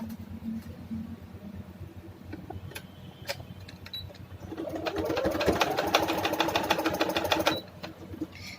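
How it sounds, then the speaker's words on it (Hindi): A sewing machine stitches fine piping onto a front-slit boat-neck kurta, quiet handling at first, then a steady rapid run of stitching for about three seconds before stopping. "बस बारीक सी हमने ली और उस पर हम स्टिच करते चले जा रहे हैं पाइपिंग"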